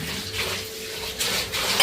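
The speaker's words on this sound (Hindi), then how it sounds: "बर्तन धो देते हैं, नहीं तो फिर ज़्यादा लेट हो जाता है" Dishes, pots and utensils are washed in a home kitchen, with close clinks and scrapes of metal and crockery over a steady wash of background noise.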